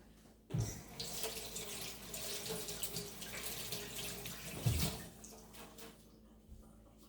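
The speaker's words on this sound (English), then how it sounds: "I'm gonna rinse my fingers off again." Water from a kitchen tap runs steadily into a sink while fingers are rinsed under the stream, the flow splashing near and continuous with a couple of brief louder knocks.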